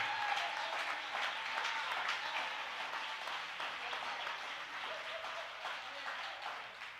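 An audience at a church service applauding steadily for several seconds, a dense wash of many hands clapping at moderate distance, slowly tapering.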